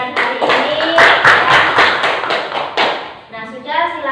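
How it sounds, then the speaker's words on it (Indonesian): A class of young schoolchildren claps together at the end of a lesson, rapid uneven hand claps filling the room close by, with children's voices mixed in and a short lull before a final scatter of claps. "Kita kasih tepuk tangan untuk kita semua ya atas pembelajaran hari ini."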